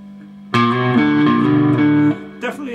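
Electric guitar licks played through low gain with slight crunchy breakup ring out loud and sustained, stepping between a few held notes before cutting off abruptly.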